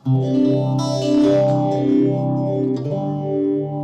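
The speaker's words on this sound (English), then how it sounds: "With one button push, I can get some modulation, delay, and reverb." Electric guitar played through a Blackstar ID100 amp head with modulation, delay and reverb engaged, sustained chords shimmering and swirling with echoing tails, loud and continuous with no talking.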